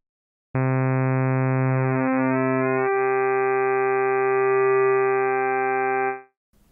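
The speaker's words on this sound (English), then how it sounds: "Additive synthesis creates timbre by adding sine waves together." A synthesized additive tone built from stacked sine partials in the Logic Pro Alchemy synthesizer, holding a steady bright chord-like buzz that shifts timbre twice before cutting off, with no voices.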